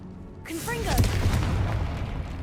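A fire-blasting Confringo spell goes off in the Hogwarts Legacy video game, a loud booming burst that sweeps in and rumbles on as a sustained crackling roar, with a brief voice line near the start.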